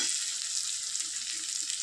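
Spices dry-roasting in a pan for a butter paneer masala, giving a steady close hissing sizzle with faint stirring underneath, no voices.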